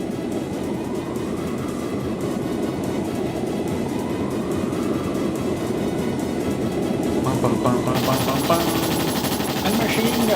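Machine gun fire rattles in the Trails in the Sky SC video game, a dense, continuous stream of rapid shots over game sounds that grows louder and brighter toward the end.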